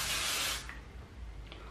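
Hairspray hisses in one strong burst of under a second onto the sides of a pixie cut, then fades to quiet room tone with a couple of faint soft touches.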